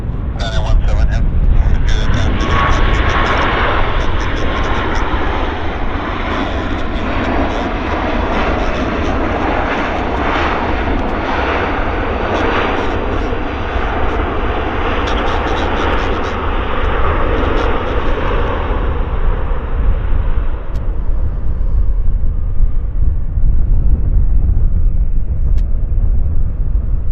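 An Aeromexico airliner at Vancouver airport roars loudly and steadily for most of the stretch, its broad jet rumble fading slightly near the end, with radio chatter and voices heard underneath.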